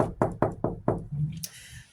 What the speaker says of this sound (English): So I'm going to knock on the door.